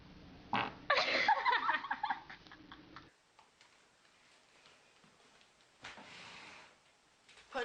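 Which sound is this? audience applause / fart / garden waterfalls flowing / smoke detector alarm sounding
fart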